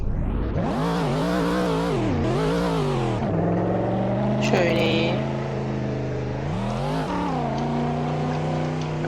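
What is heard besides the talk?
car driving and revving in a video game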